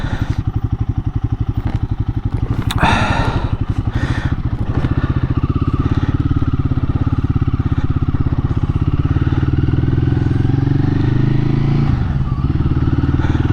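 A Royal Enfield Guerrilla 450 motorcycle runs loud and close with a steady, throbbing single-cylinder beat, a few clunks early on, then settling into an even engine drone as the ride begins.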